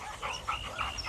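Small dog Sadie giving a few quick, faint yips and whimpery barks at close range, with a brief pause between short bursts.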